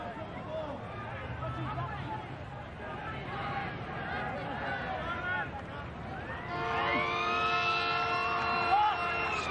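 End-of-half siren at a 1995 rugby league match between St George and Canterbury, a long steady tone entering partway through and sounding over loud crowd noise and continuous commentary.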